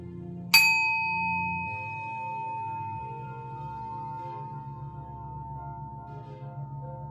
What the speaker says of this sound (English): Chime the bowl again.